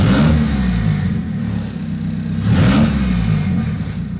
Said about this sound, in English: So I'll rev the engine.